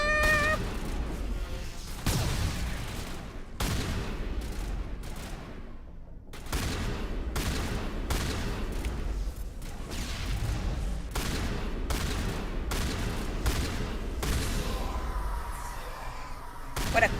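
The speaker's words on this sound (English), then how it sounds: "What a good shotgun." Rapid, repeated gunfire from the Mass Effect 1 video game, with dense overlapping shots and bursts running almost continuously and loudly, a short lull partway through before the firing resumes.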